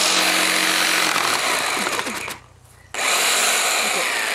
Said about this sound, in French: est-ce que c'est la première fois de ta vie que tu utilises une scie sauteuse?